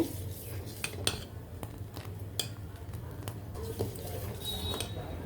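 A spoon scrapes and clinks against a vessel while ambali, a millet drink, is stirred, giving irregular metallic taps and swirling up close with no talk.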